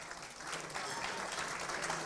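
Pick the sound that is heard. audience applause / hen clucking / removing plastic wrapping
audience applause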